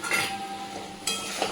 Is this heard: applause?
no